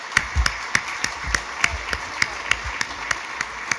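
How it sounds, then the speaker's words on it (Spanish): Applause from the audience at a business breakfast event in Uruguay, with scattered, distinct hand claps at a steady pace over a soft background of clapping, moderately quiet. "yo pido un fuerte aplauso para ellos y para todos nosotros."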